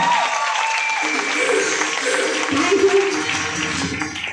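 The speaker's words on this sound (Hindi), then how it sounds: "इस नई नई दोस्ती के लिए जोरदार तालियां बजानी पड़ेगी" Audience applause at a large training meeting in Raipur, a steady wash of clapping from a crowd, fairly loud and continuous, with a voice or cheering mixed in partway through.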